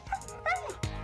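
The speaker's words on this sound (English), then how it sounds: "Oh, that's the dog. I'm like, what the hell is that?" A dog in the video game Stardew Valley giving short yips and a whimpering whine, a few quick high calls close up, with a voice partly underneath.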